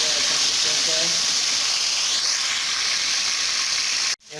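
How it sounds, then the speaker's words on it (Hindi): Chopped tomatoes hit a pan of frying onions with a loud, steady sizzle and hiss, a few stirring scrapes underneath, then an abrupt cut near the end, with faint background speech. "ये ऐड कर दूँगा और इनको हम मिक्स करेंगे और फ्राई कर लेंगे अच्छे तरीके से।"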